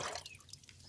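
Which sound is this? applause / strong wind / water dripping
water dripping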